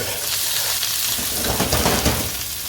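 Onions sizzling and frying in a hot pan for a dish of ampalaya con carne, a steady close crackle with bursts of spattering oil.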